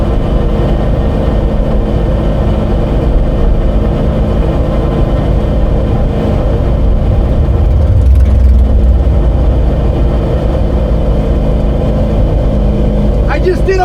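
A 1000hp MR2 drag car powered by a swapped minivan engine roars at full throttle down the strip, a heavy, steady engine drone that swells slightly midway and holds loud throughout.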